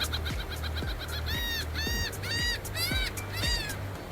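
Seabirds on a Padre Island beach give repeated harsh, caw-like calls in quick bursts, fairly close and clear, with surf and wind noise running beneath them.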